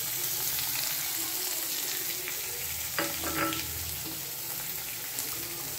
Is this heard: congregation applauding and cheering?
no